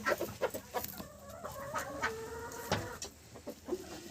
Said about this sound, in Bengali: তো এই ছিল আমার হাঁস মুরগি।